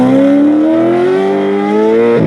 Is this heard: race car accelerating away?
yes